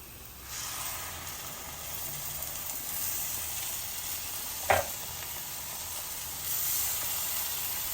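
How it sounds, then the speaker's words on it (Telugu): Tomato puree for mutton curry hitting a hot pan and sizzling steadily and close, with one brief sharp clank midway and the hiss swelling slightly toward the end. "ఈ టమాటో ప్యూరీ వేసేసుకుందాం"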